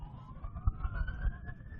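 An ambulance siren wails in the distance behind a city soccer match, a steady rising tone drifting over low rumble and crowd noise.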